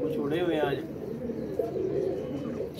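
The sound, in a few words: pigeons being released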